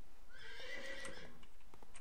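A horse whinnies in the online game Metin2, a single clear neigh rising and falling for about a second and a half, alone over faint background noise with light hoof-like ticks after it.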